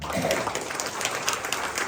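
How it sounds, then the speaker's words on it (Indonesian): Congregation in a church service clapping together for God, a dense steady wash of many hands close by, with a voice speaking faintly over it. "Tepuk tangan dong untuk Tuhan."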